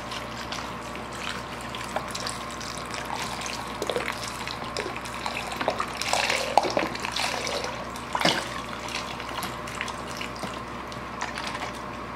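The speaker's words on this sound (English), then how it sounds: "I have 32 ounces of the chicken broth. So I'll pour this in my Dutch oven." Chicken broth pours steadily into a Dutch oven, a continuous splashing gurgle close by, with a few clinks and no talking.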